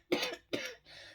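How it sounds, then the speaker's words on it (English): A person with a lingering cough lets out two quick, close harsh coughs followed by a softer exhale, heard alone and up close. "I have been hacking my butt off, like literally coughing."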